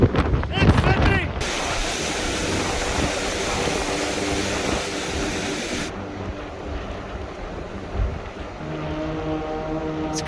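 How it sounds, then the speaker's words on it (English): Hurricane Fiona's strong winds roar steadily and loudly in Sydney, Nova Scotia, with continuous gusty wind noise buffeting the microphone and a brief burst of voices at the start. "Strong winds ripping through here in Nova Scotia right now."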